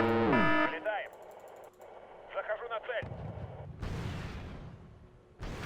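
Heavy artillery pounding a city in the video game Wargame: European Escalation: booming blasts and distorted, radio-like effects come in bursts, with a deep rumbling impact near the end.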